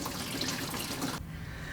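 Fluid draining steadily from a 1967 Mustang Fastback during teardown, a continuous trickling, splashing flow heard close by that drops off sharply toward the end.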